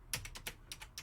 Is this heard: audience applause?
no